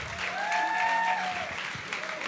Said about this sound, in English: A round of applause for Ronnie.